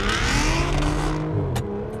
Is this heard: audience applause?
no